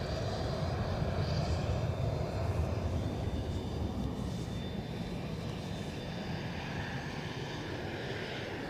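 A Cessna Citation CJ2 business jet departing Edinburgh Airport for London Luton gives a steady, moderately distant engine roar that holds evenly and eases slightly toward the end, with no talking.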